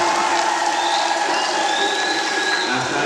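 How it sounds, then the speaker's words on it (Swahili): A church congregation at a thanksgiving Mass in Matola parish claps continuously, a dense and fairly loud wash of applause with some crowd noise, and no voice on top. "Makofi kwangu tafadhali."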